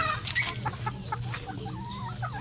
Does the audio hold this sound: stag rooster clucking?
yes